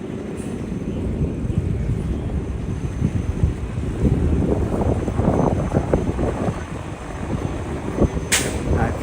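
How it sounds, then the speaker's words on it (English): Wind gusts buffet the microphone on a Brooklyn street, a rough, rumbling roar that swells and surges in uneven bursts, with a brief sharp click near the end. "Oh, it's windy over here."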